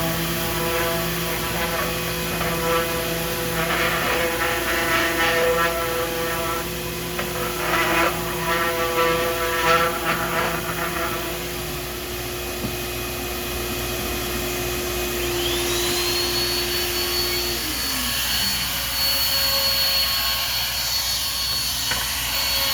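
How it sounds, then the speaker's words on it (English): A power sander runs on the faces of wooden cabinet trim with planer marks, a loud steady motor whine and abrasive rasp that shifts pitch midway and then winds down. "I can just go ahead and sand all 4 of these sides real quick"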